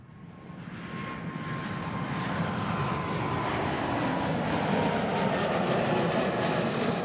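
A Swiss Airbus A220 jet at Amsterdam Schiphol roars steadily and loudly, its broad engine rumble swelling and holding with a thin whine on top, no voices over it.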